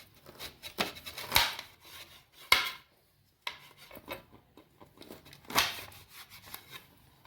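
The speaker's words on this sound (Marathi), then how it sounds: "तर जरा सगळे लिंबू आपण कापून घेऊ" Knife cutting washed lemons into quarters for a sweet lime pickle, giving several sharp, close slicing strikes and thuds on a board, separated by quieter scraping and handling, with no talk.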